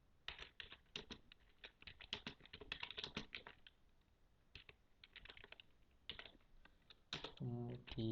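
Fingers tap quick bursts of keystrokes on a computer keyboard while entering commands in a Linux Ubuntu terminal, close and crisp with short pauses between runs, and a voice begins speaking at the very end.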